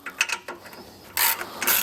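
Ratchet wrench with a 13 mm socket loosening the bolts on a plastic furnace cover of an MCS-16 furnace, heard as several quick clicking bursts, close and fairly loud, alone.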